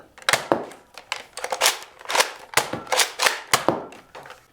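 A Nerf Fortnite SMG Zesty blaster fires darts in a quick run of about a dozen sharp, close pops. The shots come in uneven bursts and clusters, with no talking.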